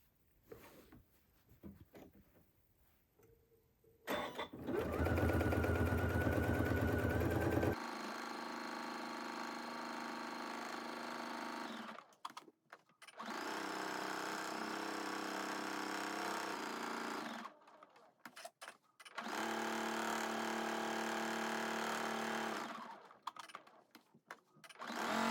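A sewing machine with a walking foot quilts around a 12-inch quilt block, running in three sustained stretches of steady mechanical whir separated by short pauses.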